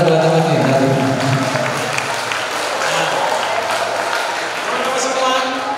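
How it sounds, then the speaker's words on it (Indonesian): An audience of school students and alumni applauds at a high school anniversary business event, a sustained crowd clapping that holds steady throughout, with talk over it. "Berikan aplaus buat teman-teman."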